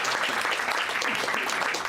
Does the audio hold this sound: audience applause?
yes